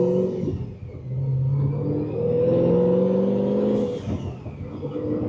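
A supercharged car engine with a Rotrex build revs and rumbles, rising in pitch with a faint whine on top, heard close up with some background noise.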